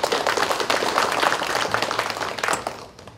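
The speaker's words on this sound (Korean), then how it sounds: "다시 한번 박수 부탁드리겠습니다" Applause from the audience at a forum's founding general assembly, a moderate burst of clapping that holds steady and then fades out in the last half second.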